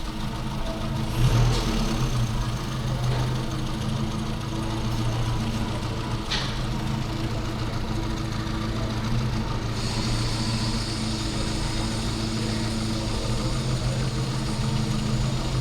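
A 998cc Mini engine idles steadily and close by, its low mechanical hum constant for the whole stretch, with small clicks and a brief rise in tone as the throttle shaft is wiggled.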